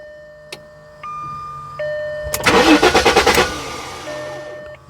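A 1994 Jaguar XJ6 with the 4.0-liter engine cranks in a no-start condition: a brief, rapid, rhythmic starter churn lasting about a second without catching, set between steady dashboard warning chime tones.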